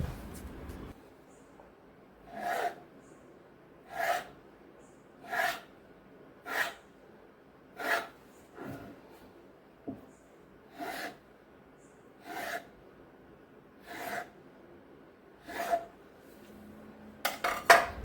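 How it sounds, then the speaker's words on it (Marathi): A knife slices a rolled sheet of wheat-flour dough into shankarpali pieces: about ten separate scraping cuts at a steady pace, each a short rasp against the board, close and fairly quiet with no talk. "अशा प्रकारे छान काप करून घ्यायचे शंकरपायाचे शक्यतो सुरीने करायचे"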